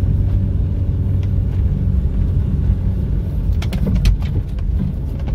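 A 1995 Mitsubishi Lancer GLXi engine drones steadily in second gear with low rumbling revs, a close, continuous motor sound with a brief swell near the end.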